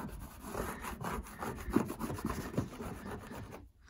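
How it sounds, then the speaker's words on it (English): Scrubbing dirt off the painted hood of a roof ventilation fan: a close, steady rasping rub in repeated strokes, with a few sharper scrapes along the way and a brief quiet gap at the very end. "scrub the dirt off"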